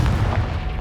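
A Confringo blasting spell explodes in Hogwarts Legacy, a loud, deep booming blast that rumbles heavily through the whole short moment.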